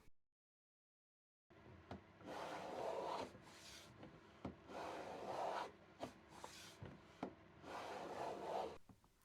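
A hand plane shoots a bevel on a wooden shooting board, cutting an undercut without a stop block: after a silent start come three long, rasping planing strokes, each ending in a sharp knock, close and alone.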